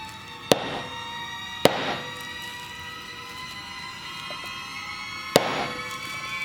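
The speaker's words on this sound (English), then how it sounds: "rock number 1, let's go ahead and smash this" Three sharp, loud cracks from a hammer striking a crystal-filled geode to break it open, spaced unevenly with quiet gaps between blows and no talking.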